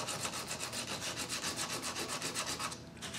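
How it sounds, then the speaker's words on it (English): Wooden wall-framing block for a model house rubbed back and forth on its end across a sanding block, a steady rhythmic scraping of about a dozen strokes, close and alone. "put it on my sanding block"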